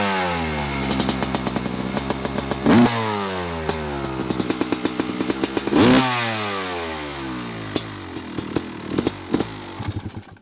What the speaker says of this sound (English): We'll let this idle for a heat cycle real quick, then I'll give you some revs.